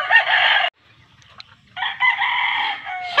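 Chickens in a backyard coop, with a rooster crowing loudly and close by in two long calls, separated by a brief gap filled with faint clucking.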